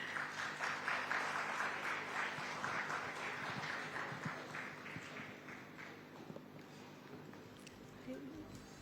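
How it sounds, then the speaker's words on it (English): Audience applause at the India Today Conclave for actress Rukmini Vasanth, a steady wash of clapping from a seated crowd that gradually thins, heard at moderate distance with a voice speaking over it. "please, if all of you could give a big round of applause for Rukmini Vasanth"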